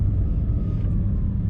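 A Porsche 911 GT3 RS 992 rolling over a speed bump on a rough street, heard as a steady low rumble from inside the car, close and continuous, with no distinct thump standing out.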